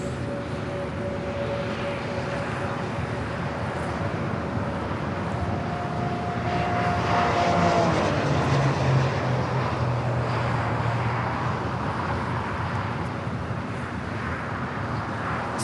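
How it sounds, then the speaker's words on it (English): A Spirit airliner takes off down runway 25 right at LAX, its engines a distant, hazy broadband rumble that swells gently midway before easing, with traffic-like hum and a few tonal whines beneath. "Spirit flight rolling down the 25 right."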